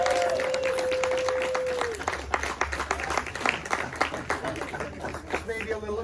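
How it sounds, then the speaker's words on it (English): A small crowd applauds at a college signing day, a sustained tone fading out before a burst of steady clapping with some cheering and chatter running underneath. "let's give a little round of applause for"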